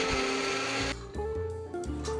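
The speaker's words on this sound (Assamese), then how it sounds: "কেঁচা মছলাখিনি পিচি লৈছোঁ।" A mixer grinder whirs loudly as it grinds raw spices, a dense motorised hum that drops to a lower, uneven churning partway through.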